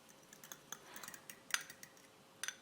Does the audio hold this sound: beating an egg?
yes